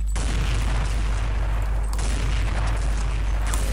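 A bomb explosion heard as a loud, distorted roaring blast with deep rumbling low end, surging again partway through, then holding a sustained crackling wash of noise.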